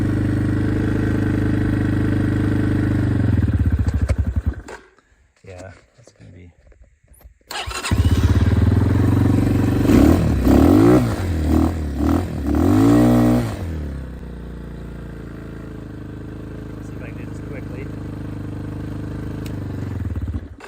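X-Pro Titan 250 DLX dirt bike engine running with the choke on, a loud steady buzzing idle that cuts out, then restarts with rising and falling revs before settling into a steady idle.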